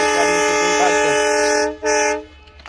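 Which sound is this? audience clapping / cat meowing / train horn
train horn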